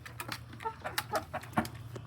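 A backyard flock of friendly hens clucks and murmurs at feeding time, several close birds giving short, overlapping clucks in an uneven rhythm with no talking.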